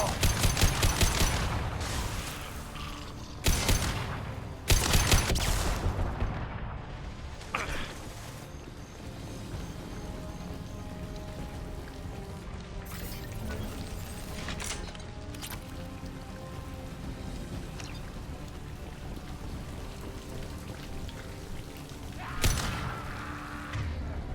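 Gunfire in the video game Mass Effect 2, sharp bursts of loud shots near the start and again later, with mechanical hums and quieter combat noise in between.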